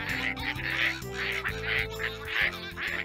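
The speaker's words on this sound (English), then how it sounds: "First the ducks quack happy birthday to Boomer." Ducks quack a happy-birthday tune in a storybook reading, with a chorus of nasal, tuneful quacks following a melody over a musical backing, continuous and fairly loud.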